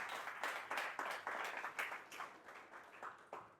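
Audience applause for a speaker at a Freedom Festival lecture event, a fairly faint, moderately distant patter of many hands clapping in uneven bursts that keep going steadily. No voices are heard.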